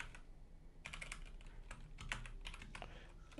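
Keystrokes on a computer keyboard while writing code, several bursts of quick clicking taps close up, with brief pauses between them and no voices.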